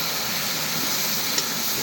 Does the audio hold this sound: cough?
no